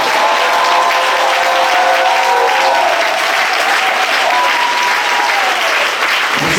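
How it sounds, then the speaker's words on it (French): A large congregation at an annual church convention in Bouaflé, Côte d'Ivoire, applauds loudly and continuously, a dense wash of clapping with faint cheering voices mixed in throughout. "acclamez fortement le Seigneur"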